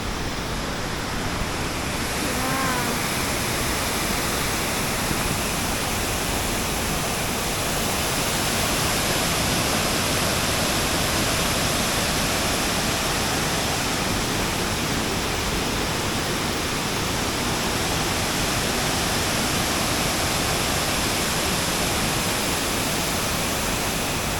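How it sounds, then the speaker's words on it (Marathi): Loud, continuous roar of rushing water near Dhootpapeshwar Temple in the rainy season, close and unbroken for the whole stretch, with no talking. "तुम्हाला आवाज येत असेल पाण्याचा. खूप म्हणजे खूपच आवाज येते."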